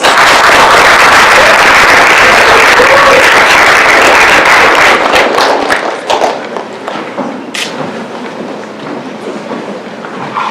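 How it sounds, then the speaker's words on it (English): An audience applauds after a scene from Macbeth, dense loud clapping for about five seconds before thinning into scattered claps and fading to quiet. "Another round of applause."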